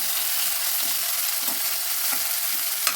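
Onions or other ingredients sauté in oil in a pan before tomatoes are added, giving a steady close hiss and sizzle with occasional light stirring scrapes throughout.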